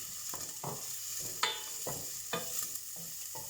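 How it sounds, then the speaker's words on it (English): Onions frying in hot oil in a pan, a soft steady sizzle with a series of sharper stirring scrapes at irregular intervals, fairly quiet and with no talking. "The oil has heated up and I'll just add in the onions, and we'll let those cook for a bit."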